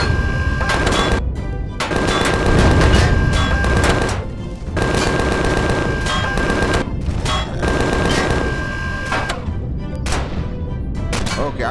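Automatic gunfire in the sci-fi survival game Empyrion Galactic Survival, fired by enemies on the ground: dense, loud bursts of rapid shots repeat in clusters with brief gaps across the whole stretch.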